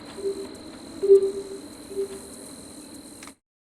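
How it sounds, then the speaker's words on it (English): Crickets and cicadas fill the ambience of Makuri Island in the video game Zwift, a steady high insect drone with a few louder chirping pulses, continuous and even before cutting off abruptly. "See if that's loud enough that you can hear the background, the crickets and whatnot."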